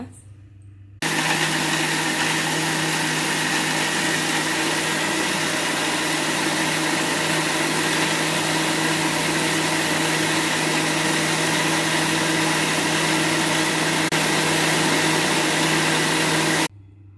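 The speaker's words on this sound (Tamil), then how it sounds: "சப்போட்டா பழத்தையும் இதுலேயே போட்டுருங்க போட்டுட்டு நல்லா அடிச்சிருங்க மிக்சியில் அடிச்சுட்டு காமிக்கிறேன் இருங்க" Mixer grinder blending sapota fruit into juice, a loud, steady motor roar that starts abruptly and runs evenly for about fifteen seconds before cutting off.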